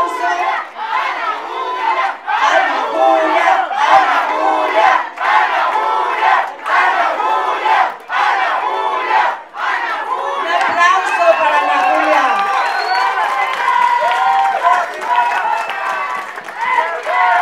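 A crowd gathered for a political meeting with ejido landholders in Xochimilco cheers and shouts loudly and continuously, the roar swelling and dipping in waves, with voices and some clapping mixed in.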